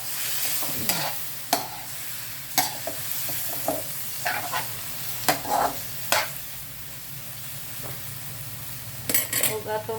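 Chicken pieces for adobo fry in a pan with a low sizzle, broken by sharp clinks and scrapes of a utensil against the pan, with the clatter growing busier near the end.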